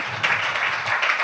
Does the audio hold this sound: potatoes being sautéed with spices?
no